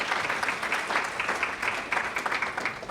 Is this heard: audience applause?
yes